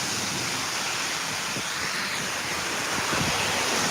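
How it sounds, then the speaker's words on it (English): Heavy monsoon rain pours down steadily in Thailand, a dense, continuous broadband hiss of rainfall that swells slightly toward the end, with no voices. "this is not your everyday rainstorm. This is a monsoon conditions here."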